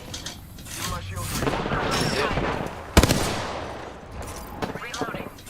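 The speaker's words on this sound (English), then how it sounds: "Shots fired." Rapid video-game gunfire with automatic bursts and single shots, loud and close, mixed with game effects and a voice talking over it throughout.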